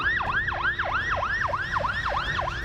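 Fire truck sirens wail at a factory fire, a loud, steady rising-and-falling whoop repeating about every third of a second, close by over a low rumble of traffic or engines.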